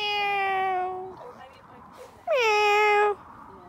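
A cat meows twice, a long steady cry then a rising, wavering one after a short pause, close and clear with quiet background in a yard.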